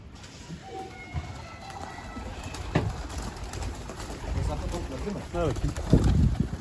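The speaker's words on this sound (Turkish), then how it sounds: "Kuş da yere inmek istiyor ama benim kuşlar maşallah müsaade etmiyor." Pigeons coo softly at close range in an outdoor spot where birds are being fed, the low rolling calls coming in short bursts amid wind buffeting the microphone and background rustle.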